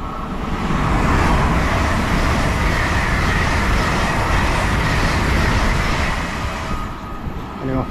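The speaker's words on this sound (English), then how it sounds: "Here we've got an LNER service coming through." An LNER express rushes through a station platform on the line between Edinburgh and Berwick-upon-Tweed, heading for London King's Cross. Loud, close, sustained roar of wheels and rushing air, easing slightly toward the end.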